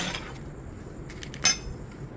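A metal spoon scraping and clinking against a container while scooping lard, with a few light taps and one sharper clink standing out, close and fairly quiet.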